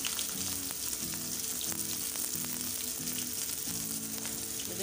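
Bitter gourd frying in oil in a pan, a loud continuous crackling sizzle held close and steady throughout with no voices.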